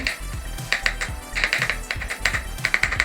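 Peeled raw garlic is chopped finely with a knife on a board, giving a quick, steady series of sharp taps close by, with no speech over them.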